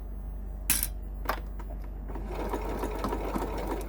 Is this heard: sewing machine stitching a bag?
yes